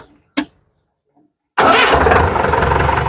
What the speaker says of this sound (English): After starting the engine, check pulses of hour meter, oil pressure gauge.